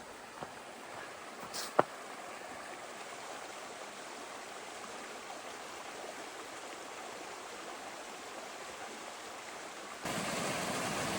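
Steady rushing flow of a river running beside the Appalachian Trail, a continuous broadband wash heard alone with a faint click early on and a brighter, louder surge near the end.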